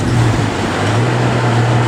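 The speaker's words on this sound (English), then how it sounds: "here we are on the back of the tuk-tuk going up to the coffee shop" Steady engine drone and road noise from the open back of a tuk-tuk moving through Bangkok streets, a continuous low hum with wind rush, loud and close throughout.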